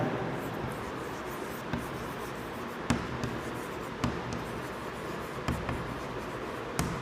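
Chalk or marker strokes on a lecture-hall board during a chemistry lesson, with repeated scratchy taps and short strokes over a steady room hiss.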